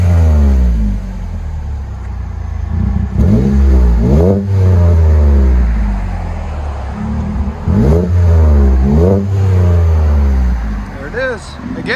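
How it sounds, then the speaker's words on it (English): A 2022 Chevy Colorado 3.6L V6 with a 14-inch Magnaflow exhaust revs loudly up close, several sharp throttle blips climbing and falling over a steady deep idle rumble. "Colorado, with a regular MAGNAFLOW 14-inch body instead of a MagnaPack"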